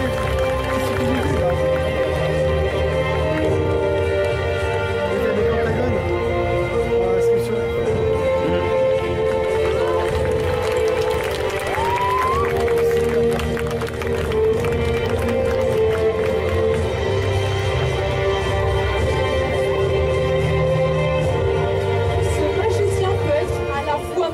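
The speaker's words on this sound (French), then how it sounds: "Je vous demande de l'applaudir bien fort s'il vous plaît" Audience at the Festival Yggdrasil 2019 Sunday cosplay contest applauds and cheers a contestant: dense, sustained clapping and crowd noise lasting the whole stretch, with music and voices mixed in.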